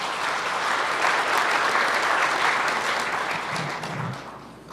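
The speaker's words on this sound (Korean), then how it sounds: "여러분 다시 한번 박수 부탁드립니다." Audience applause fills a Labor Day commemoration ceremony held with both national trade union federations, steady dense clapping from a large crowd throughout, tapering slightly near the end with no talk over it.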